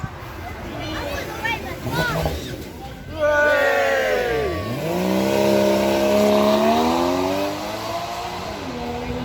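A supercar pulls away from a standing start without launch control at a Beaulieu supercar show, its engine revs climbing loudly through a rising howl while the crowd cheers and people talk nearby.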